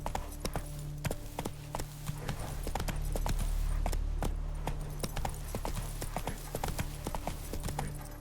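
Horse hooves clip-clop at a steady walking rhythm in the video game The Witcher 3, crisp, evenly spaced strikes over a soft low ambient bed, with no talking.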